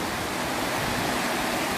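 A village stream flows down from the hills toward the sea near Barcelona, a steady close rush of water with no pauses, fairly loud and heard alone.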